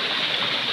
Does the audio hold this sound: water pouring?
yes